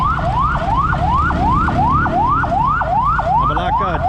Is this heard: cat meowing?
no